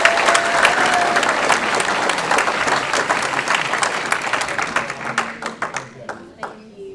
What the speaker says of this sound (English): So give them a big round of applause while the board thanks them.